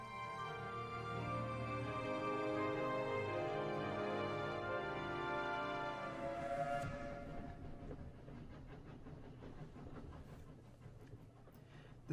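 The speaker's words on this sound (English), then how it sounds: "train started with a sharp screech, but entirely punctually" A train pulls away in the 80 Days video game, with a sustained whistle-like tone and rolling rumble that hold steadily, then fade into a lower rattling hum of moving carriages.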